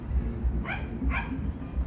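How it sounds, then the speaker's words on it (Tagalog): A dog barks twice in quick succession, moderately loud yips over a low rumbling background, heard outdoors while a small black Gymnocalycium cactus is being repotted. "Pati aso maingay, di ba?"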